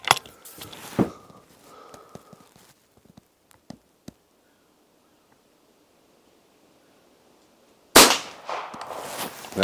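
A WW2 De Lisle suppressed carbine is fired outdoors: quiet handling clicks and small muffled reports, then a long silence and a sudden muted shot with noise near the end.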